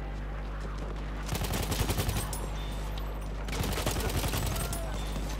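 Rapid bursts of Tommy gun fire in Battlefield 1 rattle out in two quick volleys over a steady background hum, fairly close and loud against the game's ambient noise.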